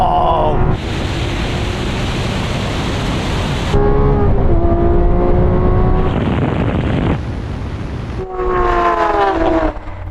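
A Lamborghini Aventador SVJ and Aventador Ultimae accelerate hard in a half-mile drag race, a loud, continuous engine roar heard from inside with rising tones climbing through gears and shifts, no speech.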